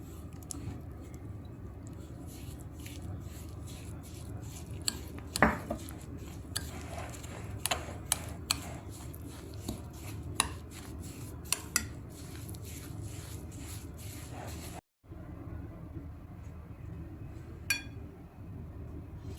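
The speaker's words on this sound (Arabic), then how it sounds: "هنزل بقى بالراحة واقلب في البسكوت بتاعي" A spoon stirs finely ground Lotus biscuit crumbs into melted butter in a bowl, making soft scraping and squishing with scattered light clinks against the bowl. The sound is quiet and close, with a brief pause near the end.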